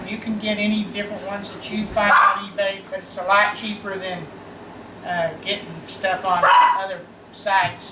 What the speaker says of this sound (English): That's our dog over there barking a little bit.